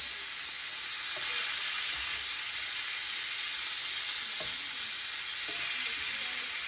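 Shrimp fry in a hot pan for Cajun jambalaya pasta, a loud steady sizzle with occasional light scrapes of a stirring utensil, heard up close.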